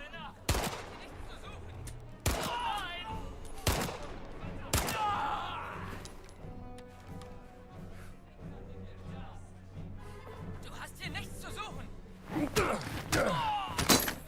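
Gunfire in an Indiana Jones video game, a handful of sharp, loud shots spaced several seconds apart, with a rapid cluster near the end, over a steady game background and talk.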